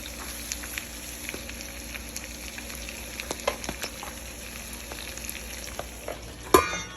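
Thick salmon slices sauté in a pan with a faint, steady crackle of frying and occasional clinks of a utensil, plus one sharper knock near the end.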